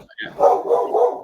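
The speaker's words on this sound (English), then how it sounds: "Barking at the door" A dog barks at the door in a short, loud burst of two or three quick woofs nearby.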